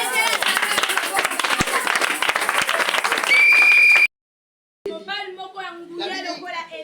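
A church congregation at a French-language service applauds and cheers loudly and steadily, broken by a short silence, after which a voice speaks over the fading crowd.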